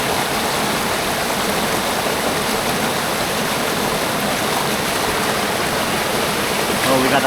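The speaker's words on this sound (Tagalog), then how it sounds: "Oh, we got a falls." A waterfall on an outdoor trip in Real, Quezon roars as a loud, steady broadband rush of falling water, continuous throughout with no breaks.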